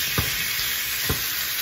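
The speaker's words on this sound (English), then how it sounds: "we'll put the meat in that we just marinate" Marinated beef sizzling in a hot pan: a steady, loud, bright hiss of frying throughout, with a couple of soft clinks of stirring.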